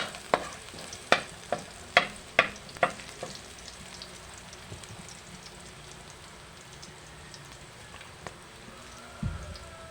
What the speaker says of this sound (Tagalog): Igisa muna natin. Unang sibuyas.